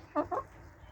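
Two short, close clucks from backyard chickens in quick succession, then a quiet background.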